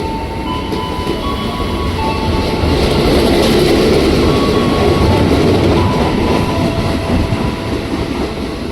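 A Jakarta-area KRL commuter train of ten cars arrives at a station close by, rumbling steadily, wheels clattering and rolling with a faint metallic squeal, the roar swelling slightly in the middle.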